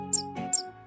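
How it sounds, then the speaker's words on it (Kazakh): A mouse gives two short, high-pitched squeaks about half a second apart. They are clear and fairly close, with a faint steady hum underneath. "Тышқан"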